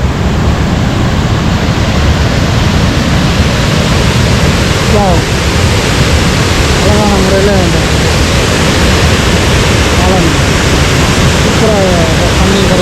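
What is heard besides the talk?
water gushing from the opened spillway gates of Iranaimadu reservoir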